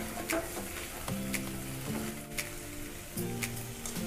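Tomato tossed into a pan of frying onions, sizzling steadily and close with a few clicks of stirring, no voices.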